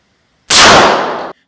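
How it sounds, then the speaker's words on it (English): A single 9mm pistol round fired into ballistics gel, one sharp loud close blast with a short decaying tail, preceded and followed by silence. "we're going to just shoot one round 9mm first into the ballistics gel"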